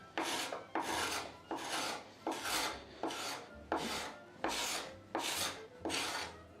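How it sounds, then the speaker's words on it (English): A scraper drags across a wooden door, stripping off old paint during a door restoration, in nine rhythmic, evenly spaced rasping strokes, each a loud, close, gritty scrape, with no talking. "and here a bit more with the scraper."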